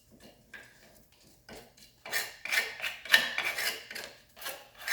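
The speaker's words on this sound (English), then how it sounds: "I'm going to get in here and kind of scrape out what I can." A plastic trim removal tool scrapes debris from the metal cooling fins of a Porsche 911 engine during a teardown, giving close, uneven raspy scratching in short bursts that grow denser and louder toward the end.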